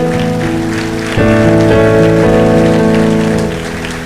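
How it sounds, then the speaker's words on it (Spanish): A church congregation claps loudly for the Lord, a thick rain-like patter of hands over sustained musical tones, swelling midway and easing toward the end. "Dale ese aplauso fuerte al Señor"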